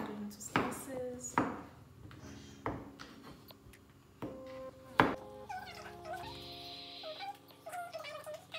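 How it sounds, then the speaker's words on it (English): A knife slices through patty pan squash on a cutting board in a home kitchen, with several sharp chopping knocks spaced irregularly, close and fairly loud, among light kitchen clatter. "So I'm going to cut it into slices."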